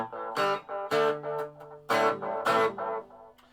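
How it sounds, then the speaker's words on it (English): An electric guitar played through a modelling amp with a tape echo effect, distorted chords and picked notes with repeating echoes trailing after each strum, loud and close with no talking. "Now we're on to tape echo."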